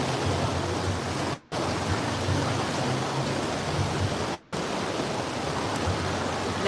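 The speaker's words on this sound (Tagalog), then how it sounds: "Ulan." Rain falling in Davao during the Kadayawan Festival, a dense, even hiss that continues steadily and loudly throughout, broken only by two brief dropouts, with no voices.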